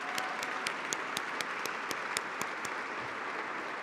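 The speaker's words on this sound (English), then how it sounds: "So wait, one more round of applause for Sintelle" A crowd at a benefit gala gives a round of applause, with distinct clapping that is fairly quiet and somewhat distant, sharp individual claps standing out over a soft, steady wash.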